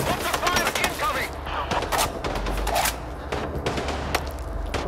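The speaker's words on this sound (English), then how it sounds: "Mortar fire incoming!" Gunfire and explosive impacts from a mortar strike in Sniper Ghost Warrior 3 crack out in rapid bursts over a low rumble. They are loud and close, with gameplay voices mixed in.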